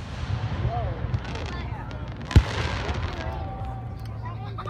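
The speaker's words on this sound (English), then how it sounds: "there's fireworks over there" Distant fireworks at an outdoor night show, one sharp boom standing out midway over a steady crowd murmur and background music, with people talking nearby.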